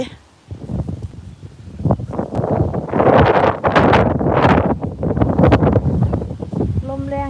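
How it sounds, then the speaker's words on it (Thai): Strong wind gusts buffet the microphone outdoors while wild fruit is gathered in the countryside near Udon Thani, Thailand, a loud, sustained roar with voices talking underneath. "ลมพัดวีวีเลยจ้ะ"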